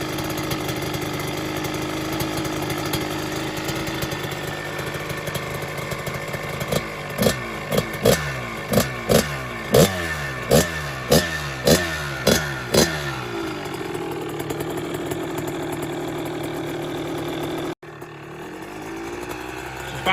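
A super-mini dirt bike's small engine idles, then is blipped through a rapid series of about a dozen sharp revs, each rising and falling in quick rhythm, before dropping back to a steady idle; close and loud.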